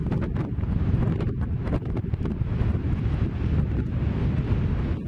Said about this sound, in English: And it was extremely windy.